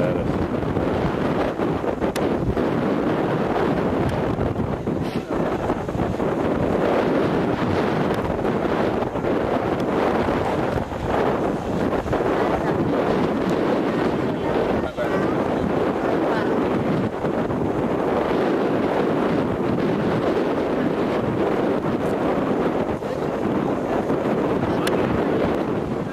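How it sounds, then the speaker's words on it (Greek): Strong wind buffets the microphone on an open paragliding launch site at Plataies, a constant loud roaring rush with gusty swells throughout, occasional faint voices beneath it. "Ο αέρας είναι λίγο παραπάνω από ό,τι πρέπει,"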